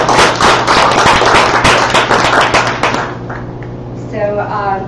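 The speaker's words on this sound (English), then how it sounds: "So I think he deserves a big round of applause." An audience at a software developer presentation claps in a dense burst of applause for about three seconds, then it thins out and a voice begins speaking.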